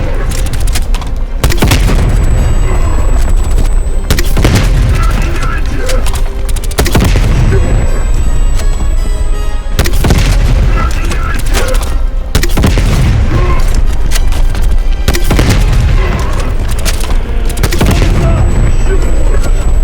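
Heavy explosions and rapid gunfire in the video game Call of Duty: Black Ops Cold War, with loud, repeated booms and bursts of shots filling the whole stretch without a break.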